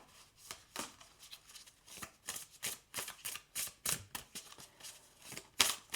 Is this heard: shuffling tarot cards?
yes